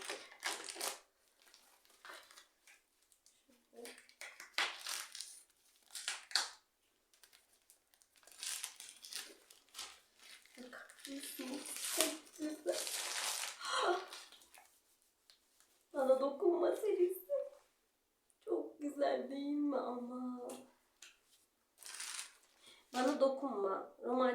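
Packaging around a book order is torn open and crinkled, with bursts of rustling plastic and paper alternating with someone speaking close by.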